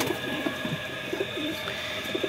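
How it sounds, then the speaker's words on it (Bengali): Soft, repeated low cooing from a domestic pigeon kept in a village loft, a series of short rounded calls close by over a faint steady background hum, with no talk. "আর এইখানে একটা কবুতর আছে"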